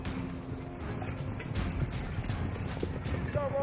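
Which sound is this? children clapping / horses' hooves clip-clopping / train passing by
horses' hooves clip-clopping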